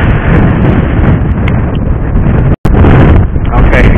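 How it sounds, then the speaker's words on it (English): Heavy wind buffets an outdoor microphone with loud, continuous low rumbling and roaring gusts, broken only by a momentary dropout near the middle. "Probably going to get a lot of wind noise."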